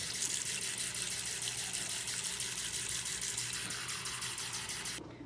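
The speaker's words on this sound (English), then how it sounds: "Add room temperature water." Room temperature water poured into a mini noodle cup, a steady close hissing splash of liquid that runs continuously and cuts off abruptly near the end, with no talking.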